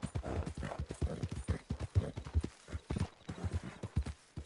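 Rapid, rhythmic clip-clop of horse hooves trotting at a steady pace in Red Dead Online, close and clear with no talking.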